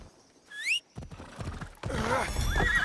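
A horse in Assassin's Creed Shadows gives a short, loud whinny early on, followed by clattering hooves and mechanical rattling as the ride continues, fairly close and alone without talk.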